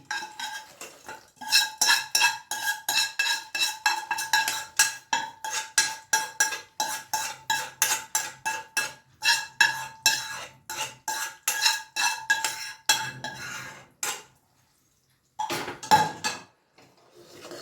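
A spoon scrapes and clanks against a metal pan in a steady rhythm while a sweet mixture for Palakkad manoharam is stirred with roasted coconut. The strokes are close and loud, with one brief pause near the end.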